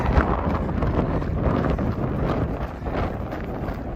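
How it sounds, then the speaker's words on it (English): Strong wind buffets the microphone in a steady, rumbling roar on the North Kaibab Plateau, Arizona, loud and continuous with no talking. "It is quite windy."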